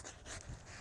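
A dog pants hard and rapidly after a vigorous flirt pole play session, steady breathy huffs sounding close and loud with no talk over them.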